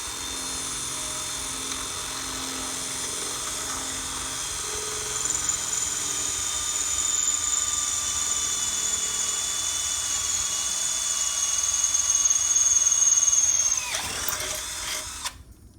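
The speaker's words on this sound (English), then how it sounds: "Now we take our drill and we're going to drill where we marked," A power drill bores mounting holes for a pool cleaner cord system upgrade, its high motor whine running steadily for about fourteen seconds, rising slightly under load before stopping abruptly, close up and with no talking.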